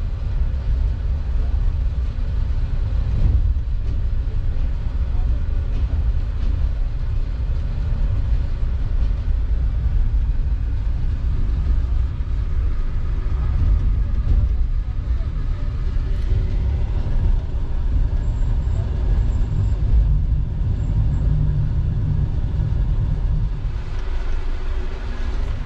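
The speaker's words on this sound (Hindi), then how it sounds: "तीन बज के 17 मिनट पे डिपार्ट कर रही है ट्रेन हमारी कोर्ट नजीबुल्ला रेलवे स्टेशन से" The passenger train 12DN Hazara Express, riding in an AC Standard coach, pulls out of Kot Najibullah station with a continuous loud low rumble and rolling noise. The sound holds steady throughout and eases slightly near the end.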